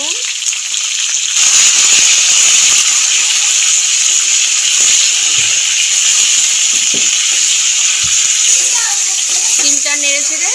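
Whole flat beans (sim) with salt fry in a pan with a loud, steady sizzle close up. Brief bits of stirring and a voice come in near the end.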